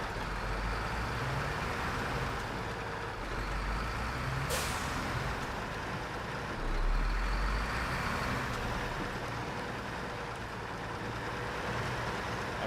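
Heavy truck engine in the SnowRunner driving game, a loud continuous rumbling drone with one sharp hissing burst partway through, steady and close with no talk.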